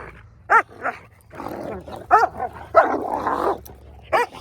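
Several dogs bark in short, loud bursts with yips and whimpers between them, close by, with no talk over them.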